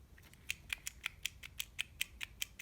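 Sanwa arcade joystick buttons clicking under repeated presses, a steady run of about a dozen sharp, close clicks roughly every quarter second, with no talking.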